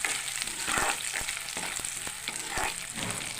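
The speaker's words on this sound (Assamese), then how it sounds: "ভালদৰে ভাজি ল'ব বাদামী কালাৰ অহালৈ" Cauliflower stems fry in a hot pan, a steady bright sizzle running throughout with a few soft stirring knocks, close and fairly loud with no voices.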